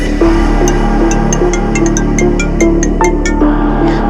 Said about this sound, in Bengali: হঠাৎ দেখে আমার ফোনটা বেজে উঠল।